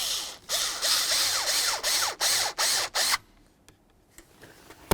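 A hand ratchet tightens the two mounting bolts on a 2004-05 Ford F-150 combination switch, eight quick close rhythmic bursts of clicking, then a few faint knocks and near silence.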